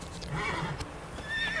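A horse in The Witcher 3, set on fire, gives a short whinnying neigh with faint hoof clops, close and alone.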